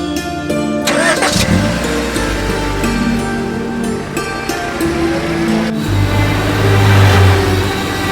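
A car engine cranks and catches, then runs loud and close as the car backs up, settling into a deeper, steady hum near the end.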